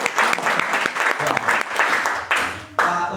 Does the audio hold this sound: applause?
yes